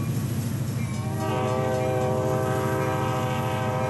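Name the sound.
train horn in video game Rails Unlimited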